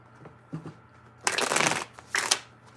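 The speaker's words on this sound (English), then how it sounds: "Three shuffles." Tarot cards are shuffled in a few quick bursts, a short riffle followed by two longer papery flutters, close and fairly crisp.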